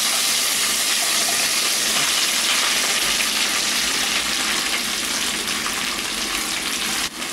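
Okra (ladies finger) and curry leaves frying in hot oil in a pan, giving a steady, loud, close hiss of sizzling that holds unbroken throughout with no voices.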